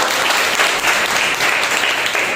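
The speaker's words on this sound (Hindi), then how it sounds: "सच्चे और जिंदा परमेश्वर के लिए जोरदार तालियां हो जाए।" A church congregation at a Sunday morning service breaks into loud, dense applause, a steady wash of many clapping hands filling the room.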